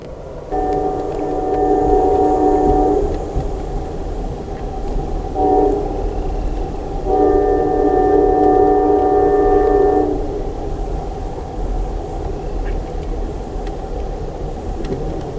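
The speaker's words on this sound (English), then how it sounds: "I'm gonna get on the train." A CSX train rumbles past steadily, its horn sounding two long blasts with a short toot between them.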